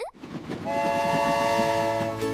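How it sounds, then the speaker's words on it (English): A cartoon train sound effect in a children's colors animation rumbles with rhythmic clacking under a sustained, tonal horn-like whistle that holds steady, loud and close, with no speech. "All aboard the color train!"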